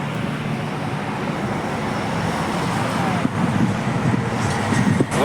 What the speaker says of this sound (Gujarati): મિત્રો ટોલ નાકા ઉપર આવ્યા છે અત્યારે